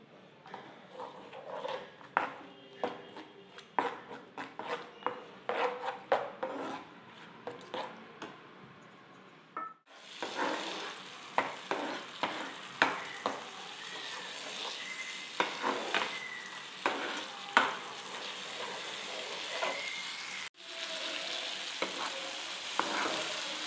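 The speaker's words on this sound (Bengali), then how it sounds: "আস্তে আস্তে আমি কষাবো।" Onion with red chili powder and turmeric is stir-fried in a pan: a spatula scrapes and knocks in an uneven rhythm over a soft sizzle, close and moderately loud, with two brief breaks.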